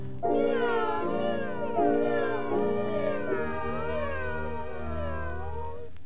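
A voice imitates a cat in the 1956 children's song "Three Little Kittens", singing a string of drawn-out meows in a sing-song rhythm, several in a row, close and clear.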